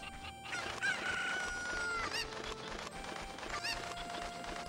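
A cucco, the chicken from Zelda: Ocarina of Time, clucks and crows in game sound effects, with shrill repeated cries over a steady background music bed.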